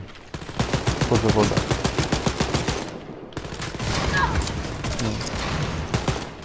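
Rapid bursts of gunfire from the video game Wolfenstein: Youngblood crackle loudly in two volleys with a brief pause between, while a voice speaks briefly in Polish over them.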